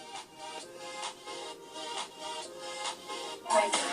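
Music played as an MP3 through the small built-in speaker of an Asus Transformer Pad TF300TG tablet at maximum volume, thin and bright with a steady beat, moderately loud and without talk.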